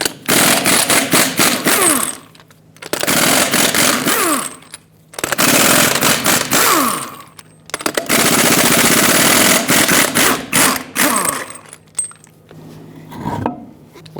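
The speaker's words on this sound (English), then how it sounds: "Use a 21mm socket and remove all 8 lug nuts and then pull the wheel off." An impact wrench removes the eight lug nuts with a 21mm socket from the rear wheel of a 2011-2018 Ram 2500 pickup, in loud, rapid hammering bursts of several seconds each, with brief pauses and metallic clinks between them.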